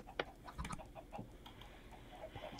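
Quiet clucking of a chicken in a video game, soft scattered clucks and clicks over a low background with no talking.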